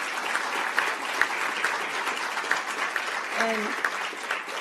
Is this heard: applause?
yes